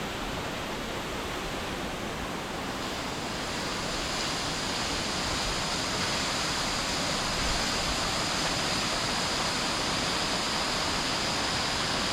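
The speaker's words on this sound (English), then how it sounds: "but it's a nice waterfall" Loud, constant roar of a waterfall heard right at its base amid the spray, dense rushing water filling the whole clip with no pauses, close by.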